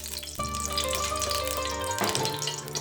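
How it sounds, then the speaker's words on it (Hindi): Meat pieces fry in cooking oil for Kabuli pulao, a steady low sizzle with a sharper burst of crackling partway through, close and with no voices. "अब इसमें हमने बोटियों को भी तल लेना है।"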